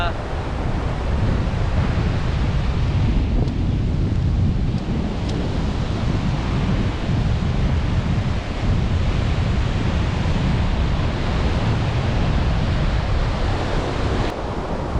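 Steady, roaring wash of sea waves breaking on Kirimanjeshwara beach, with heavy wind rumble throughout and no clear pauses between breakers.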